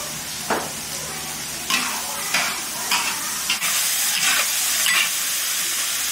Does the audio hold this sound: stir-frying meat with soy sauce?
yes